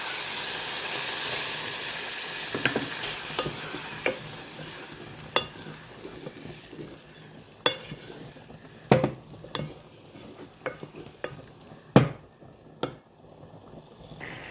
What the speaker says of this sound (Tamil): இப்போ தண்ணி விடுறேன்.